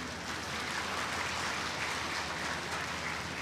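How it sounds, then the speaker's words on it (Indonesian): Audience applause at a live public gathering with Ny. Putri Koster, a dense, steady wash of many hands clapping at moderate level throughout, with no voices over it. "Jangan ragu-ragu tepuk tangan."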